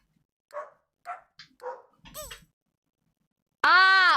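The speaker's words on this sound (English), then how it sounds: "They'll bark 3 times in the same rhythm, then you come in with the 4th beat" Video game Cerberus dog gives three short rhythmic barks, then a brief sharper yelp, a pause, and a longer loud bark-like tone at the end; nothing else in the background.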